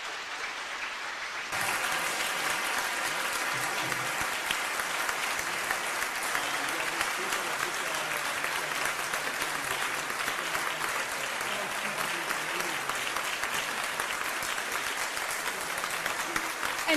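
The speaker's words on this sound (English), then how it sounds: "Let's have a nice round of applause for all of our assistants here." Loud, sustained applause from an audience, steady clapping filling the whole stretch with no talk over it.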